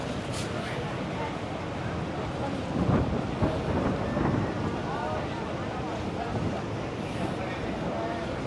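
Strong wind at Legian beach, Bali, roars steadily into the microphone as a loud, unbroken rush that swells slightly partway through.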